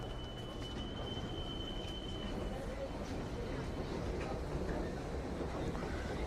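A Vancouver SkyTrain rumbles through a station with a steady low roar and a faint high squeal of wheels on rail, with a voice briefly heard over the train noise.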